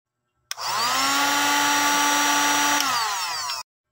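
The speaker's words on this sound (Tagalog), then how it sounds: "Gumamit lang pala ako dyan ng blower" Electric blower running steadily for about three seconds while jars of homemade chili garlic oil are sealed, a loud continuous whine that starts abruptly, holds level, then cuts off.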